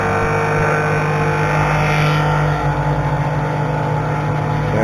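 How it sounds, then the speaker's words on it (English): A machine steadily cuts a part from 1/4 inch thick 7075 aluminium plate stock, producing a loud, continuous, even mechanical drone with a sustained low hum and no pauses. "Cutting it out of plate stock."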